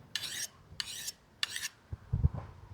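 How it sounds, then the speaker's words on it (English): A knife blade is drawn across a sharpening stone from a camping kit in three even, close rasping strokes, followed by a few low knocks of handling. "It looks like this is pretty nice sharpening stone."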